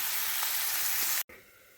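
Egg and onion green-chili fry hisses steadily in a hot frying pan, a dense, close sizzle that cuts out abruptly near the end and returns softer.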